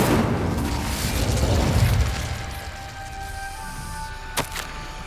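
A fiery burst from the Incendio fire spell in Hogwarts Legacy, a loud roaring whoosh that fades into a low rumble, followed by a short sharp pop near the end with faint game tones beneath.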